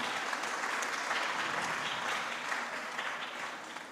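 Steady, fairly quiet applause from the audience at a university convocation ceremony, a continuous wash of many hands that tapers slightly toward the end.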